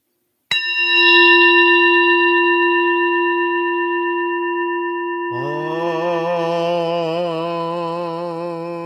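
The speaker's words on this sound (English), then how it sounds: "With this final tap of the singing bowl, shift your focus and your attention to the sound of the bell as it rings and fades into silence." A singing bowl struck once rings out clearly with long steady tones, then a second tap brings a wavering, shimmering resonance that slowly fades, alone with no talk.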